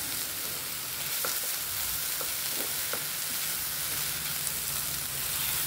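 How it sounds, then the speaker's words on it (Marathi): Fresh coconut filling being roasted and stirred in a pan until dry, a constant low frying hiss with a handful of light spatula scrapes tapping against the pan. "हे नारळ हे सारण आपल्याला सुकं होईपर्यंत परतायचं आहे"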